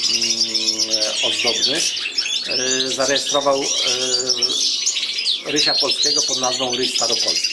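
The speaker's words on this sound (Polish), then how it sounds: "Słyszymy szczygielki, tutaj sobie ładnie tak ćwierkają." European goldfinches chirp and twitter busily in bright, rapid bursts, with someone speaking Polish over them throughout.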